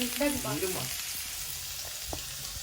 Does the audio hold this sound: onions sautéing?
yes